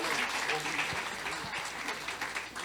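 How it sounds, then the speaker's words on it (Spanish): A church audience at a Spanish-language forum applauds for their pastor, a dense, steady wash of many hands clapping with voices mixed in beneath it. "Le damos un aplauso a nuestro pastor también."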